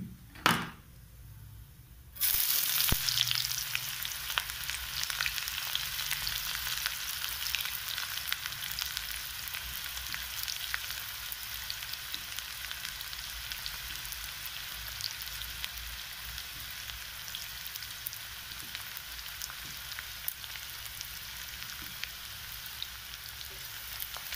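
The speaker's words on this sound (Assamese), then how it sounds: "মই এতিয়া মই কাটি থোৱা পিয়াজখিনি দি দিম" Chopped onions drop into hot oil in a pan for an egg-potato curry, setting off a sudden loud sizzle after a brief quiet start that then settles into a steady, dense, hissing fry lasting throughout.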